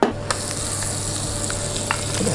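Butter browning in a pan on the stove, a steady close sizzle with a few sharp pops and crackles.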